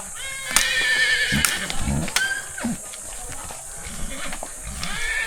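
Loud nearby neighing from a tall working cargo horse, shrill whinnies rising and falling over steady background noise, with people talking around it.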